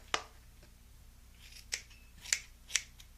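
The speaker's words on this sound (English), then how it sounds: "you're going to want to use the clippers to just finely chop this" Scissors or clippers chop loose hair in a bowl to make fake stubble, giving four sharp, crisp snips spread over about three seconds, close and fairly quiet with no speech.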